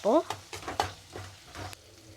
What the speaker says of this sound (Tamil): இப்போ பாருங்கள் ஃப்ரெண்ட்ஸ், வெங்காயம் தக்காளி நல்லா வதங்கிடுச்சு